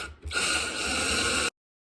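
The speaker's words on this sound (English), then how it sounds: "What I'm doing now is just screwing a couple of screws, one either side of the bait," A power driver runs a screw through a plastic downpipe for a rodent bait station, one steady whirring drive of about a second and a quarter that stops abruptly into silence.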